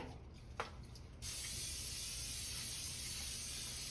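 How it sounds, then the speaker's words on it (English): A short pump click on a cooking oil spray is followed by a steady, loud hiss of spray onto chicken tenders that keeps going without a break. "Spray the other side here."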